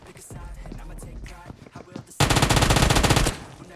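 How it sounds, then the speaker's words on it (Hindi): Rapid automatic gunfire in the PUBG Mobile game, a dense loud burst of about a second following scattered single shots and game sounds. "मैं प्री फायर लेके जाता हूँ और इस बंदे को कैसे लिपटाता हूँ।"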